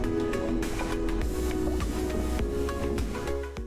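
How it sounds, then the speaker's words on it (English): Underwater ambience effect: a steady muffled low rumble layered with dense bubbling and scattered fizzy clicks, continuous and even throughout with no voices. "Then is an underwater ambience one"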